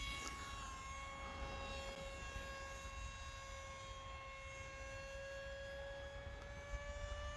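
An E-flite T-28 Trojan 1.1 m RC model airplane lands, its electric motor a faint, steady high whine that rises slowly in pitch over constant outdoor background noise.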